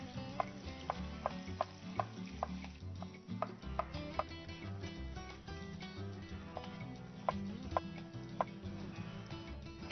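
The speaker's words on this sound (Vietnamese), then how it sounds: "dầu nóng rồi em bỏ đậu hũ vô chiên anh nha" Tofu fries in hot oil with a steady sizzle, punctuated by sharp clicks and taps of a utensil turning the pieces in the pan, close and continuous without talk.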